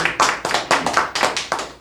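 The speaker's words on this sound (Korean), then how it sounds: "회장님께 한번 큰 박수 주세요" A small group claps for a company chairman at an indoor meeting, a short run of distinct, close hand claps in an uneven rhythm.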